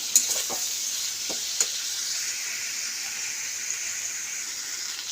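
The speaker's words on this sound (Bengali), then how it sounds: "এটাকে ভালো করে আমি মশলাটাকে ভেজে নেব।" Cumin and coriander seeds sizzle steadily in hot oil in a pan for a chochri. A few soft stirring clicks sound over the constant frying hiss, with no one talking.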